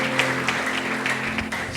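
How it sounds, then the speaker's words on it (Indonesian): Congregation at an online worship service applauding, a steady crackle of many hands over a held keyboard chord, moderately loud and continuous. "Berikan tepuk tangan meriah bagi Tuhan kita."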